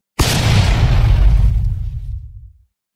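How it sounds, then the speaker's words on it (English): A single loud explosion sound effect previewed in the Filmora 12 editing program: a sudden blast with a heavy low boom that rumbles and fades out over about two and a half seconds, with no voices. "As you can see, there is an explosion."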